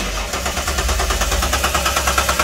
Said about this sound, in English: when I connect those two pins together, it causes the engine to turn over